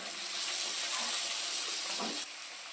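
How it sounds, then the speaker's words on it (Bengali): Chopped tomatoes hit fried onions in a pan for an egg curry with mashed peas, giving a loud, steady sizzling hiss that runs continuously and alone, easing slightly near the end. "এবার এটার মধ্যে টমেটো কাটাগুলো দিয়ে দিলাম"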